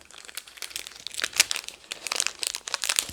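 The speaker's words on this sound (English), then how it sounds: "we are going to cut down the little wire that's here" Small car audio wire being snipped to length during a JL Audio C7 speaker system install, giving close, crisp crinkly clicks and snaps in a quick uneven series, with no talking.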